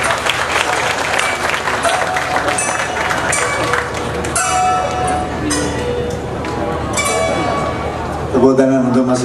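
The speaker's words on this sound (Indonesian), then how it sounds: "Tepuk tangan untuk Mas Sobari." Audience applause at a cultural dialogue event, a dense, loud stretch of clapping with voices and other noises mixed in throughout.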